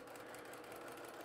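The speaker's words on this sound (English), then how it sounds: "Now as I come over to the sewing machine" A sewing machine stitches fabric for a batik quilt block, guided by a presser foot slightly narrower than a quarter inch. It makes a steady, quiet, even hum with a fine rapid texture throughout the short stretch, with no talk.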